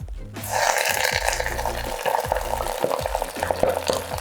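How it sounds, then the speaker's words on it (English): Collard greens (haakh) hit hot mustard oil in a wok for Kashmiri-style cooking, bursting into a loud sizzle that settles into steady crackling with scattered pops, close and without talk. "Hot mustard oil in a wok, and you just take the haakh or your greens and make them sing."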